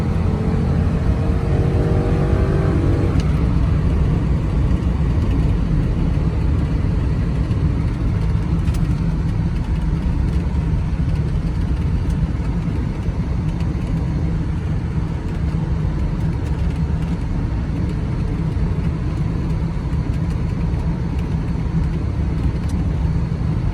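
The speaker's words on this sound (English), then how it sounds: "Up into passing gear here one more time." A 2002 Ford Thunderbird kicks down into passing gear, its engine note rising into a strong steady roar heard from inside the car with road and wind rumble underneath.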